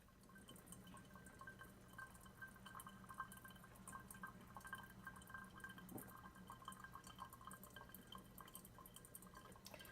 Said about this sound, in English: And I love watching the water bubble through.